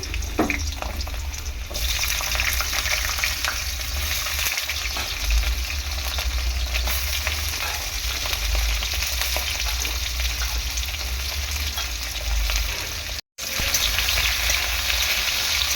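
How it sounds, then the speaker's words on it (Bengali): Potatoes fry in oil in a wok with a loud, continuous sizzle, with stirring scrapes mixed in and a short break near the end before the sizzle resumes. "আবার প্রথমে আমি আলুগুলো ভেজে তুলে নেব।"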